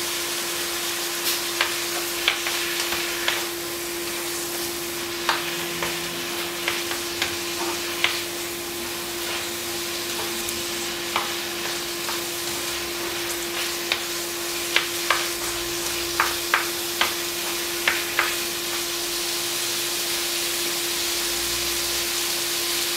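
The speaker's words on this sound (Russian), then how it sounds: "Перемешиваем лапшу с овощами и с мясом." Udon noodles with vegetables and chicken stirred in a hot frying pan: a steady sizzle with repeated scraping clicks of the utensil against the pan, fairly close, alone without talk.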